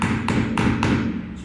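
Three sharp taps strike a seashell, evenly spaced like hammering a nail to punch a hole, each a brief close click over a low background hum.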